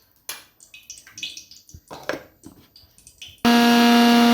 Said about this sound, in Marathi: हे मिक्सरला काढून घेऊयात